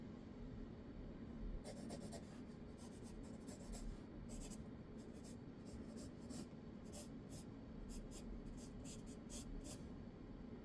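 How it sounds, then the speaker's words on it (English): Pencil scratching on paper while sketching a box for figure drawing, a steady soft rasp with repeated short strokes close by, under faint room noise. "So that means I need to draw a box going this direction."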